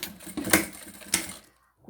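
A sewing machine stitches a plastic pencil case seam in short mechanical bursts, two sharp louder clacks standing out within a rattling run, then stopping abruptly near the end.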